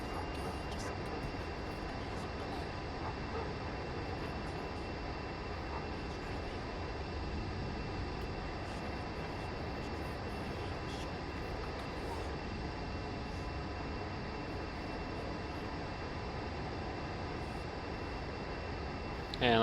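Aircraft engines being throttled back in the DCS World flight simulator, a steady unbroken engine drone and whine that holds at an even level throughout.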